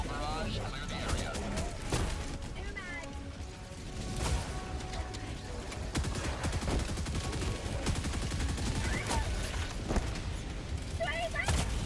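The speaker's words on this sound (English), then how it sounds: "Firing orbital barrage." An orbital barrage strike pounds the battlefield in Helldivers 2, with repeated heavy blasts and sustained gunfire rolling on throughout, under dense game noise and chatter.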